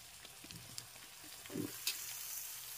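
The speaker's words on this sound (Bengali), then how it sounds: "এখন ভালো করে মশলা কষিয়ে নিয়েছি, দিয়ে দিচ্ছি কুমড়ো, বেগুন আর পুঁই শাকটাও তুলে দিতে হবে।" Pumpkin, eggplant and Malabar spinach frying in a pan of spiced masala give a soft, steady sizzle with faint stirring scrapes, quiet and continuous, with no voices.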